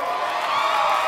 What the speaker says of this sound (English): Can we give Jay a round of applause?